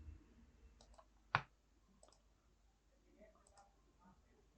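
Computer mouse clicking through a software setup dialog: a single sharp, close click stands out, with a few softer clicks around it in a quiet room.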